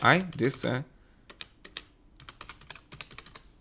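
A brief spoken phrase gives way to typing on a computer keyboard, irregular crisp keystrokes tapping close by in short runs with small pauses between them.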